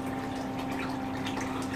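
Small waterfall in a seaquarium tank, steady splashing and gushing water with a constant pump-like hum underneath, continuous and fairly close, with no speech.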